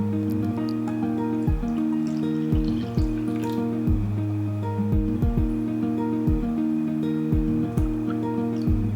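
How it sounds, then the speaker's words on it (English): Water and shirodashi are poured into beaten egg for chawanmushi, giving a series of gurgling, glugging fill sounds that rise repeatedly in pitch as the liquid runs in, close up and with no talk. "Pour in the water and shirodashi."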